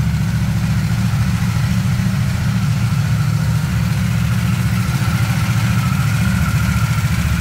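A new Harley-Davidson Nightster Special V2 motorcycle, standing still, runs at a steady, loud, close idle with an even rumbling beat and no rise in pitch.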